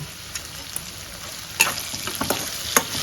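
Curry leaves frying in a pan with potato fried rice give a steady close sizzle, with sharper crackling pops and stirring scrapes building in the second half. No one speaks.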